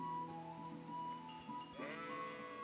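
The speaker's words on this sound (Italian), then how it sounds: "Che fa quella pecora?" Sheep bleating in the video game Kingdom Come Deliverance, a couple of wavering, nasal bleats close by and fairly quiet, the second rising at the end.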